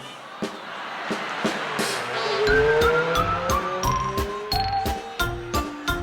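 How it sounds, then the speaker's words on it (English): Cartoon-style clown car sound effects, with squealing, skidding tyre and engine sweeps rising and falling over several seconds, punctuated by sharp regular clicks and bright musical tones, loud and close. "We have, from our cartoon stories, Clown Car, which has wonderful sound effects."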